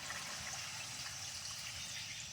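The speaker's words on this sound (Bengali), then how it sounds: "এখন আমি কিছুটা জল দিয়ে দেবো খুব বেশি জল দেবো না" Water poured into chicken biryani masala in a cooking pot, a steady splashing pour with no talk.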